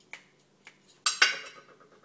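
Dishes clatter on a granite kitchen countertop: a few light clinks, then two sharp, louder crashes of crockery close by, ringing briefly before fading, with no talking.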